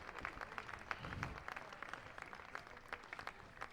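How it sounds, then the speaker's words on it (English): Steady, dense applause from a crowd at a crown green bowls ladies' champion of champions final, a continuous patter of many hands clapping with a few sharper claps, heard alone at moderate level. "getting the applause from the crowd"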